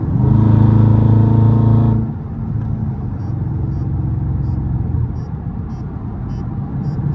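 A Dodge Scat Pack cruising and cutting through highway traffic: a loud, steady engine drone with strong low harmonics for about two seconds, then easing into a continuous rumble of road and tire noise heard from inside the car.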